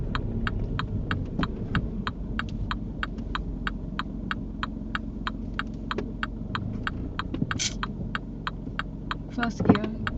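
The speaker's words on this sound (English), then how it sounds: "So first we put a bit more gas on and lift the clutch." Car engine idling and pulling away during a driving lesson, a low steady hum under a regular ticking indicator, with a little movement noise near the end.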